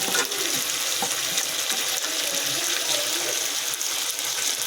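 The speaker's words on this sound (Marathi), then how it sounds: "आता याच्यामध्ये आपले चिकन फ्राय केलेले पीस ॲड करायचे हे बघा" Fried chicken pieces for chilli chicken go into a hot pan, and a continuous loud hiss of sizzling runs throughout, close and bright, with faint scrapes of stirring underneath.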